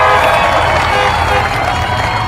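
A large crowd in an open stadium cheers and applauds Kamala Harris's speech, a loud, continuous roar of voices and clapping that holds steady without pause.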